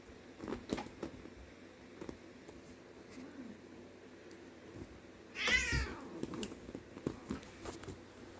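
A cat near a horse being worked with for bolting lets out one clear meow midway through, with faint shuffling and outdoor rustle around it.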